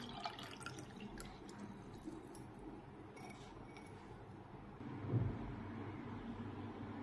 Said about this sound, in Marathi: आता हे सरबत आपण गाळून घेऊ।